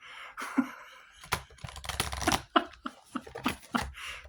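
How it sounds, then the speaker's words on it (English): A deck of cards is shuffled up close in a quiet room, bursts of rapid riffling flutter and sharp snaps of card edges arriving in uneven clusters with brief pauses between. "I think the cards are shuffled by now."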